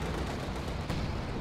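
Anti-tank gun fire in a WWII strategy video game: a dense, loud, continuous rumble of gunfire and blasts fills the whole short stretch, with one slightly sharper report near the end and no talking.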